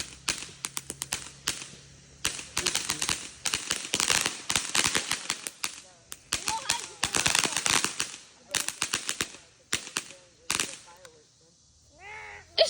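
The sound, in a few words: fireworks and firecrackers going off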